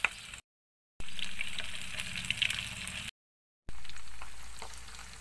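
Breaded squid rings fry in hot oil with a close, steady hissing sizzle, interrupted by two short silent gaps.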